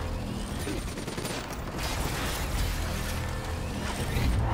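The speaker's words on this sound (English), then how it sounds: "That is explosions" Dense, loud bursts of rapid gunfire and booming blasts overlap continuously in the video game Call of Duty: Black Ops 3, a chaotic battle din with no voices.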